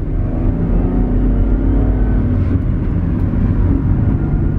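A new Chevrolet Camaro launches as the clutch is released, its engine roaring loud and steady from inside the car with a rising strain toward the end.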